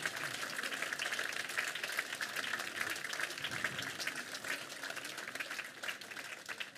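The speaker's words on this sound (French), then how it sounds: "Je vous remercie de bien vouloir applaudir les services techniques de la ville d'Oyonnax" An audience applauds at an Armistice Day ceremony in Oyonnax, France, on 11 November 2018: steady, dense clapping from a crowd that holds at an even level throughout with no pause.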